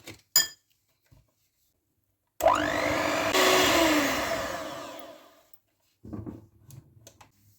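An electric mixer whirs at steady speed for about three seconds as it beats cake batter with flour and baking powder, then winds down. Short clinks of utensils against a bowl sound before and after.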